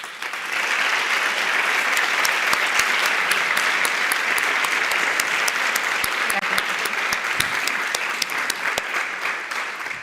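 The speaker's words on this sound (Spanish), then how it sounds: "se merecen un aplauso muy fuerte." Loud, sustained applause from a conference audience at a round-table session, dense clapping filling the whole stretch with sharp individual claps standing out, no talking over it.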